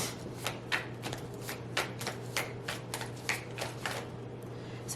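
Tarot cards are shuffled by hand close up, a quick run of crisp riffling bursts repeating in a steady rhythm, with no voices over them.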